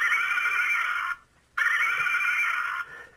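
Recorded horses whinnying, played back during a comedy interview: two long, bright, high whinnies, each about a second and more, separated by a short silence, sounding clear and fairly close.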